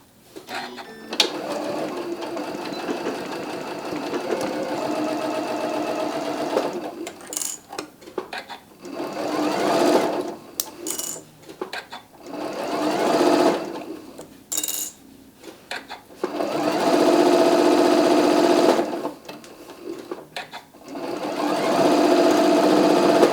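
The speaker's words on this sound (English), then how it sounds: "And if I'm going to machine sew this, I'm probably going to have it right along the edge" A sewing machine topstitches along the edge of a fabric bag, running in repeated bursts of steady needle chatter with brief stops, clicks and fabric handling between runs.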